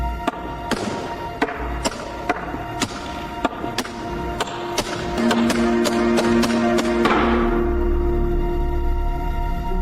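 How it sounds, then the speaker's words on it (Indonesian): Sharp wooden taps of chess pieces strike a board in a quick, uneven series during a fast game at a chess club, the clicks crisp and close over a low, steady hum. "tiba-tiba terdengar suara cepat ketukan bidak catur"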